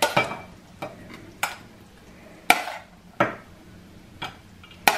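Spoon and serving utensils clink and scrape against a plate as cauliflower and potato curry with coconut and brown rice is dished up, giving about eight sharp, close knocks spaced unevenly over a quiet background, with no talking.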